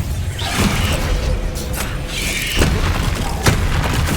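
Bombarda blast spell explosions in Hogwarts Legacy, several booming thuds and bursts over a dense, steady game soundscape, with sharper hits near the middle and end.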